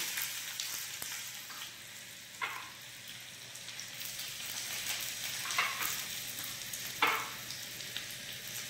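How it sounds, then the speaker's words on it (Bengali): Quiet, steady sizzle of chopped onion frying in hot oil in a small pan, broken by a few soft scraping knocks. "তেল আমাদের গরম হয়ে গিয়েছে ছোট্ট প্যানের মধ্যে। এবারে দিয়ে দেওয়া হচ্ছে কুচনো পেঁয়াজ।"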